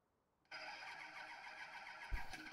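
Hemi V8 engine cranking and catching at a race event, a sudden loud start that settles into a steady, raspy running note, with a low thump near the end.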